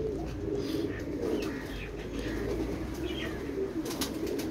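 Flying-breed pigeons, some damp from rain, keep up a steady low cooing throughout at close range, with occasional faint chirps and soft scuffling layered over a constant ambient hum.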